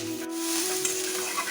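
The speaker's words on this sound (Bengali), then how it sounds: "ঠিক এইভাবেই আমি 2-3 বার ঢেকে ঢেকে ভেজে নেব বাঁধাকপিগুলো।" Cabbage frying in a covered pan gives a steady, close, even sizzle with faint stirring textures and no talk.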